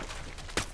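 A single gunshot in the video game Ghost Recon Wildlands, fired at point-blank range, rings out as one sharp loud crack over a steady noisy game backdrop.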